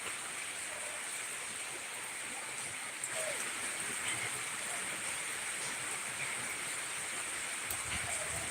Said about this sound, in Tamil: மழை சரியாக வெளுத்து வாங்குதுப்பா.